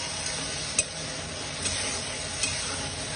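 Chilli chicken with tomato sauce and soy sauce sizzles steadily in a pan, a close continuous frying hiss broken by three light clinks of a spatula being stirred through, no voices.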